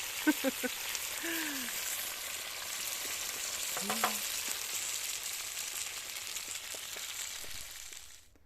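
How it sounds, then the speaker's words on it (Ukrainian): Steady crackling sizzle of food frying in a pan, running throughout with a few brief clinks and short voice sounds over it. "Чуєте, як шкварчить."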